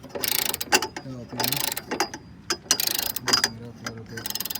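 A wrench breaking loose an engine mount bolt on a Honda Civic, heard as a series of sharp metallic ratcheting clicks and clanks in irregular bursts, close and fairly loud, with a little background noise between.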